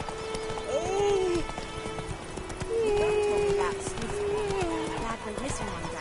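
A horse gallops in The Witcher 3, with rhythmic clip-clop hoofbeats and a couple of whinnies, sitting under game voices and music.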